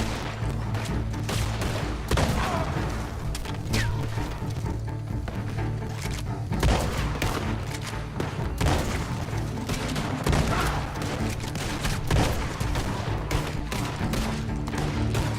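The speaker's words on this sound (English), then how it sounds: "Good thing I got my shotgun with slug ammo rounds now." Shots crack repeatedly in a Red Dead Online fight with bandits, from a shotgun loaded with slug rounds. The loud booms are irregularly spaced and overlap in a dense exchange of gunfire, with no talk.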